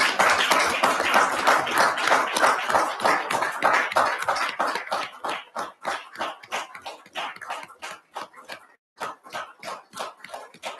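Applause at a public board meeting, a room of people clapping steadily that thins toward the end into a few sparse, rhythmic claps, with a brief pause near the end.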